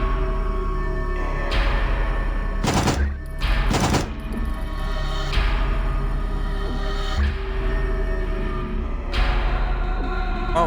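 Gunfire in the horror video game Signalis, a few sharp bursts and single shots standing out loudly over a steady droning game soundtrack, with quieter stretches between them.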